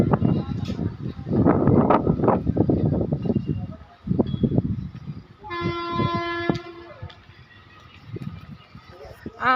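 A train horn blares at Karad railway station, sounding in a long held blast partway through, with people talking nearby and the rumble of rail traffic around it.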